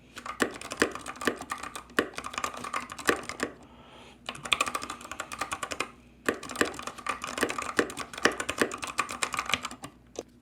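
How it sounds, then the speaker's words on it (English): Rapid clacking of Freewrite Hemingwrite mechanical keyboard keys, close and crisp, in two steady bursts separated by a short pause, with heavier spacebar clunks mixed among the clicks. "the spacebar has like a really distinct clunk sound to it"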